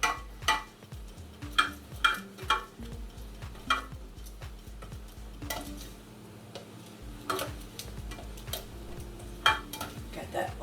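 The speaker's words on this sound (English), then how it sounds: "And I'm going to mix that all up." A chia jam mixture with vanilla is stirred in a pot, making close, rhythmic scraping and clinking strokes that repeat steadily with no talking.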